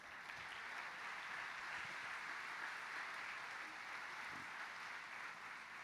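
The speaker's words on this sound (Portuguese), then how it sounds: "Uma salva de palmas." Congregation clapping in a church service at IEQ Sede Piracicaba, a steady, even wash of many hands sounding soft and distant, continuing without talk.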